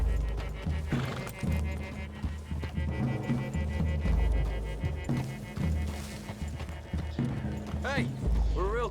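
Steady hoofbeats clip-clop at a walking pace close by in Red Dead Redemption 2, with people talking throughout and a brief whinny near the end.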